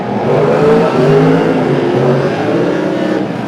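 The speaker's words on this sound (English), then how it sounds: "Now the second Giant car fires up." A superstock race car at a teams-night event fires up and revs, its engine rising and falling in several loud, close rumbling bursts with shifting pitch.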